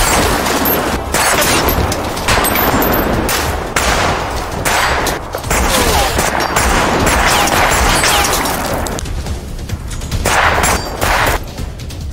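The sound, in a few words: gunfire from captured enemy weapons in a film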